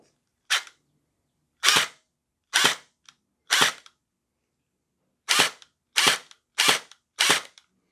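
A Splatrball gel blaster upgraded with metal gears and a strong spring fires eight sharp, snappy shots at close range, four at irregular intervals, a pause, then four in quicker succession, with silence in between.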